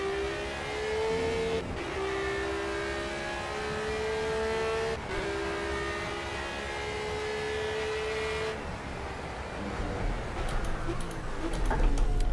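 A Radical SR3-RS racing car engine in Project Cars droning steadily near the rev limiter, its pitch climbing and snapping back at each limiter cut or shift, a continuous loud whine that roughens toward the end.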